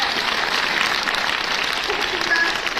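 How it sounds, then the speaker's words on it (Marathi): Steady, dense applause from a school parents' gathering audience in Nashik, Maharashtra, a continuous wash of many hands clapping at even loudness throughout, with faint voices mixed underneath. "हिच्यासाठी जोरदार टाळ्या"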